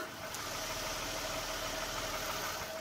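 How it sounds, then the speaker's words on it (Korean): Steady, low idle of a Hyundai Equus 3.8 V6 engine with a constant mechanical hum and faint ticking, recorded close up under the open hood with no talking. "바로 가까이서 엔진 사운드 담아드리도록 하겠습니다"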